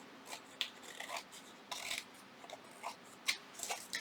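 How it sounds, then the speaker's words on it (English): Scissors trimming excess paper from a junk journal pocket, a quiet close series of short crisp snips and rustles at an uneven pace. "I'm just going to trim off the excess. So just give it a trim."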